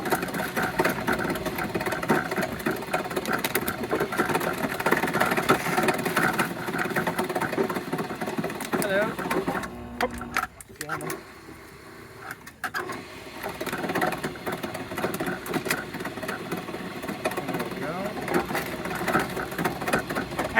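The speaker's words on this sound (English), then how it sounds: "So I'll turn on the grinder again." A mobile solar-powered plastic shredder grinds plastic bags and scraps, a steady dense mechanical whir and rattle that briefly drops away near the middle before resuming at full loudness, close by with no talk.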